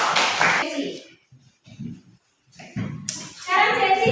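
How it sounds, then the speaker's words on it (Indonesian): Schoolchildren in a classroom burst into a round of applause after a teacher's prompt, dense close clapping following short stretches of speech. "tepuk tangan untuk Kevin dulu."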